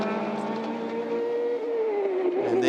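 Prototype race cars at Sydney's circuit during a Shannons Nationals race, a steady loud engine roar with a rising and falling pitch as the cars run through a corner, no talk over it.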